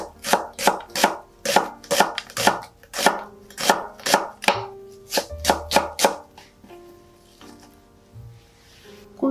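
Rapid, steady knife chops slicing onion into long strips on a cutting board, crisp and close, in quick runs with brief pauses between bursts.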